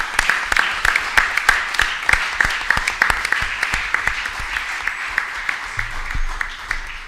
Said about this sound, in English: je vous propose d'applaudir tout ce monde-là